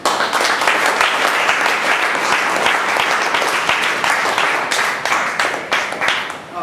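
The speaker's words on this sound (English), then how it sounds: "So a huge round of applause." Sustained applause from a Toastmasters meeting audience, dense steady clapping filling the room at full loudness for several seconds.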